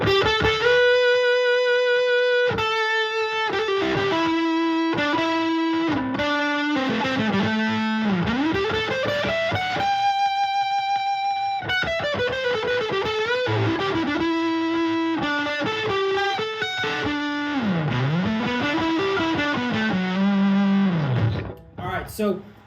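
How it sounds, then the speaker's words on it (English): A ProCo Rat pedal with its distortion turned all the way up drives an electric guitar through a thick, sustaining lead with bends and held notes. It plays loud and steady for about twenty seconds before cutting off near the end, with no speech. "The distortion all the way up, you get a lot of sustain."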